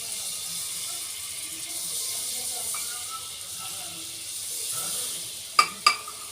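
Butter melting in a pan for white sauce pasta gives a steady, soft sizzling hiss that runs throughout, ending with two sharp, close clicks of a utensil against the pan.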